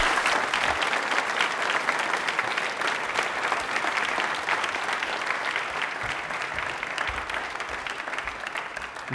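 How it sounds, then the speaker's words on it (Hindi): A studio audience at an Independence Day quiz show bursts into loud, sustained applause, a dense steady wash of clapping that carries on for the whole stretch without talk. "तालियां एक बार जोरदार हो जाए इनके लिए।"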